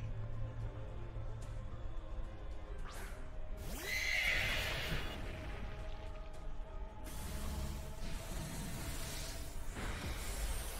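An Ice Horse Pokémon in a Pokémon video game battle gives a clear, loud whinny midway through, over game music and effects.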